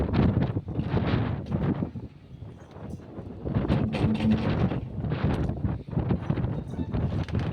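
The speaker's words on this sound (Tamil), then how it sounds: "செம காற்று அடிக்குது" Strong wind gusts across a rooftop garden where plants are being potted in red soil, a loud, continuous rushing roar that buffets the microphone in swelling waves, with no talk.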